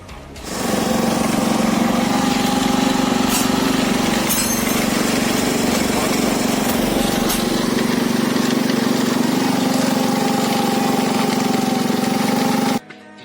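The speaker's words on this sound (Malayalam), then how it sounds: "പെട്രോൾ ഒഴിച്ചിട്ട് നമുക്ക് വണ്ടി സ്റ്റാർട്ട് ചെയ്യാം." A customised Honda Dio scooter engine starts up and settles into a loud, steady idle with a buzzing putter, runs alone for about twelve seconds, then cuts off abruptly.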